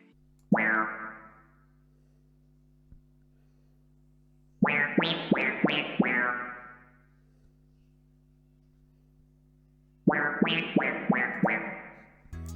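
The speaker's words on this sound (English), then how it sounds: "I grabbed this kind of funky vintage synth lead" A funky vintage synth lead plays a lone bright note, then two phrases of quick stabbing notes that decay with a buzzy tone over a low steady hum.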